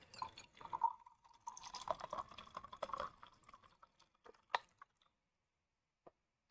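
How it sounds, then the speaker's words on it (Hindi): Water is poured and sipped close by: faint, scattered splashes and gulps over a few seconds, thinning out to a couple of isolated small clicks. "चलिए थोड़ा सा पानी पी लेते हैं"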